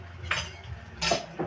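A spoon stirs food in a metal cooking pot, producing two clear scraping clinks about a second apart and a fainter third one at the end, close and alone.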